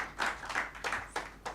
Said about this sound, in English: I think, yeah, that deserves a hand clap.